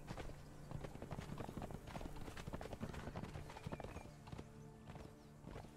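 Horse hooves clip-clop in the video game Conan Exiles, a quick, steady run of close hoofbeats that stays fairly quiet and holds its pace for several seconds, with no talking.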